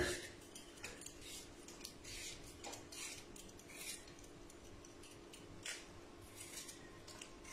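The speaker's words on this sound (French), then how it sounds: "On va donc éplucher nos pommes de terre." Potatoes peeled with a knife while preparing tartiflette waffles: faint, irregular scraping and light clicking strokes against a steady low background hum, no voice.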